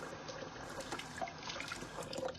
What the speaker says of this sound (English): you can run water on it so it could be easier